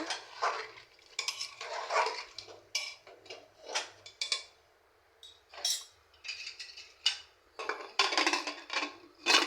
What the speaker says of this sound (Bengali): আমি চাল কুমড়াটা দিয়ে দিলাম, একটু নেড়ে চেড়ে এরপর ঢাকনাটা দিয়ে